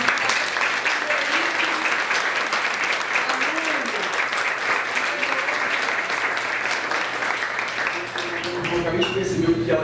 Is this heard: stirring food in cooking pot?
no